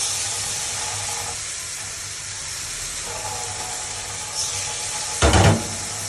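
A steady hiss rises from spice paste of ground cumin, ginger, garlic, salt, chilli and turmeric frying in a pan, with water added, and a sharp, louder burst of sizzling near the end.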